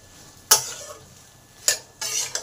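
Vegetables with salt and turmeric are stirred in a pan for a Bengali fish-head chhyanchra, three sharp scraping strokes of a spatula against metal rising over a faint sizzle.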